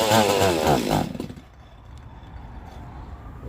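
Custom-built Stihl 026 chainsaw engine revving loudly, then dropping off after about a second into a low, rough idle that keeps running steadily at moderate volume.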